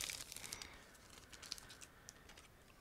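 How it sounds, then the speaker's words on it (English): A sealed plastic bag holding decals and clear parts for a 1/35 scale Miniart G506 panel delivery truck model kit crinkles and tears open, giving quiet, close rustling with sharp little crackles over a soft hiss. "I'm opening a sealed plastic bag with the decals and clear parts"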